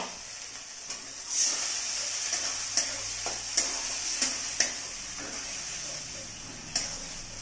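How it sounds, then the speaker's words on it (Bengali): Onions sauté in a pan for mushroom curry with a bright, continuous sizzling hiss, broken by regular light taps and scrapes of a spoon stirring. The sound stays close and moderately loud, with no voices. "পেঁয়াজটা একটু কষা হোক, সামান্য একটু কষা হোক।"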